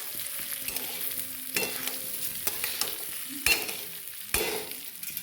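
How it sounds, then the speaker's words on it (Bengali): Gobindobhog rice frying in hot oil while it is stirred, giving a soft continuous sizzle. Several sharper scrapes and clatters from the spoon against the pan break through it, fairly close and with no voices. "এই চালটাকে দিয়ে নেড়ে চেড়ে আমি ভালো করে ভেজে নেব"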